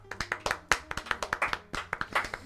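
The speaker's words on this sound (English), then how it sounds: "Just a nice little golf clap for you, bud" Soft, quick hand claps from a small group, a light patter of about a dozen claps without cheering.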